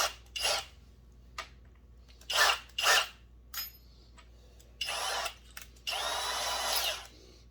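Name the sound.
power drill deburring edge of a hole, Husqvarna 357xp rebuild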